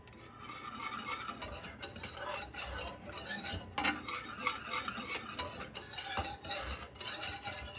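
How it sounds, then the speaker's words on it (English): A spoon stirs and scrapes German chocolate cake icing around a pot over a low gas flame, working the sides, bottom and corners in continuous close, gritty strokes with a light sizzle, without talking. "I do this scraping the sides, the bottom, the little corners, because that's where it's going to stick."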